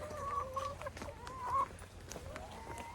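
Farm hens clucking in a coop in the morning, a few soft, drawn-out clucks and murmurs close by over a low background hum.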